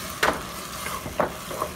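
Roasted tomato sauce poured into a hot pan crackles and sizzles, with a few soft stirring scrapes and splashes repeating against a steady frying hiss.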